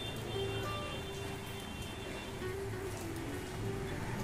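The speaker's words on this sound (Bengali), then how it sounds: "এখন সন্ধে হয়ে গেছে, ভালোই জোরে বৃষ্টি নেমেছে" Heavy rain falls steadily on an evening in cold winter weather, a dense continuous wash of patter with no breaks, moderately loud and with no one speaking.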